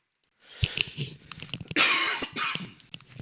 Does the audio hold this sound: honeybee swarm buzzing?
no